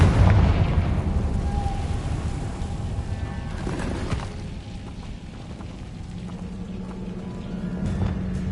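A Confringo blasting spell goes off in the Hogwarts Legacy video game, making a booming explosion that fades into a continuous low rumble with crackling debris and a softer humming tone toward the end.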